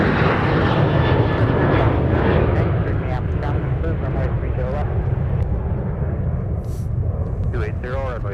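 A Delta airliner bound for Atlanta takes off from Minneapolis–St. Paul airport, its engines a loud, steady roar that fills the whole stretch. Voices talk now and then over the noise.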